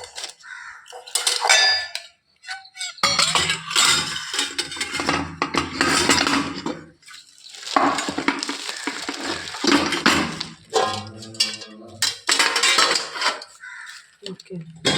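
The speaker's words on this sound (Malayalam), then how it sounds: "ഇന്നലെ കഴുകി കമഴ്ത്തി വെച്ചിട്ടുള്ള പാത്രങ്ങളാണ് കേട്ടോ" Washed cooking pots and pans, left upside down to dry overnight, are picked up and moved in a home kitchen, giving irregular clinks and clatters while people talk over most of it.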